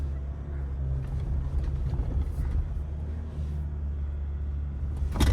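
Ford Ranger Sport (2023) driving off-road on sand dunes, heard as a steady low engine and road rumble that holds level throughout, with a brief louder burst near the end.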